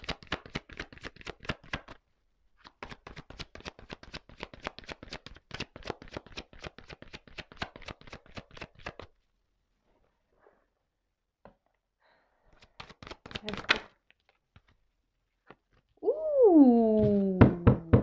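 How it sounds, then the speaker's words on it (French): Tarot cards riffled and tapped in quick crisp bursts, a long run of rapid flicks followed by a pause and a brief second flurry, then a voice making a playful rising sound effect at the end. "Allez, je prends une petite carte encore."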